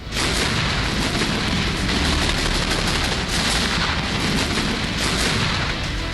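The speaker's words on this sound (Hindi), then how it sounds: "रूसी सैनिकों ने बरसाई बेतहाशा गोलियां।" Heavy gunfire from Russian soldiers rattles on without pause in the war in Ukraine, dense bursts of shots blending into a loud, continuous roar.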